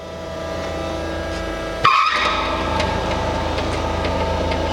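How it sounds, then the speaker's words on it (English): An 18 by 96 inch Landis precision universal cylindrical grinder starting up with its hydraulics, a steady machine hum that jumps with a sharp clunk and whine as the pump kicks in, then settles into a continuous drone. "Press this button here and then this one. That'll start up the hydraulics."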